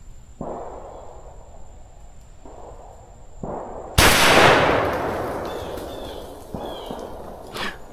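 A single sharp, loud gunshot cracks out while hunting squirrels in a swamp, its blast decaying slowly into the surroundings, preceded by a few softer rustles and footsteps.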